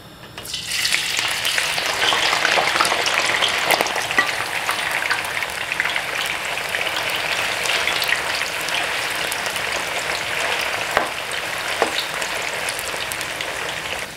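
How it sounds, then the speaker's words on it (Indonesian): Tofu fries in hot oil in a pan on a stove, giving a dense, steady crackling sizzle that fills the whole stretch, close and alone with no talk. "Tahunya kita goreng ya."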